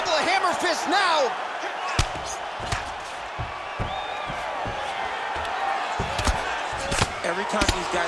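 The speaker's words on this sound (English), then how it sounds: "A couple of hammer fists now." Hammer fists landing in an MMA fight between two fighters: several sharp, scattered thuds of varied strength over crowd murmur and a commentator's voice.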